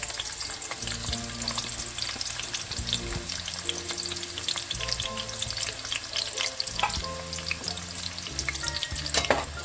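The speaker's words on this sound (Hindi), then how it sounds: "बेसिकली हमें ज़्यादा से ज़्यादा प्याज फ्राई करने हैं" Onions frying in oil for chicken biryani, a steady soft sizzle with occasional stirring clinks and scrapes from the pan, continuous and fairly quiet throughout with no talking.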